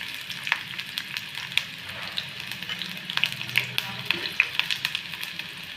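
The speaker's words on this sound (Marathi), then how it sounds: "त्यात तेल चांगलं गरम झालं की त्यात कांदा टाकून घेते." Onion frying in hot oil in a kadhai gives a steady, close sizzle with scattered sharp crackles and pops throughout.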